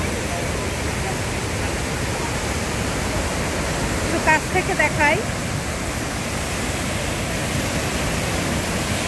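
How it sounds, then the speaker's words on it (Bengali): Great Falls waterfall in Paterson, New Jersey, roaring as a steady broadband rush of falling water throughout, with someone briefly speaking over it midway. "এখন আছি নিউ জার্সির প্যাটারসনে গ্রেট ফলসে"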